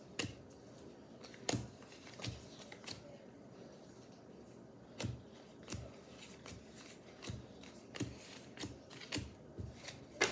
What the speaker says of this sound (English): So, sorting these from clubs versus spades is going to be easy.